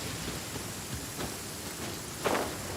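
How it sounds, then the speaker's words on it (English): Rain in the video game Genshin Impact, a faint, steady patter of falling drops with a couple of soft louder splashes near the end and no talking. "And it's raining"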